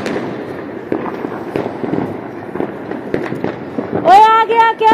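Diwali firecrackers pop and crackle again and again at a festive family gathering, while people talk and shout nearby.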